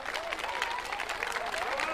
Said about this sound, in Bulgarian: Аплодисменти за Юмер Ферат!